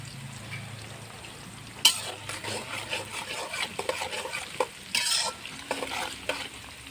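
Chicken and taro frying in a pan with a steady sizzle as a spoon stirs and scrapes through the pieces, a sharp knock near the start and busy stirring bursts after, close and unaccompanied by voices.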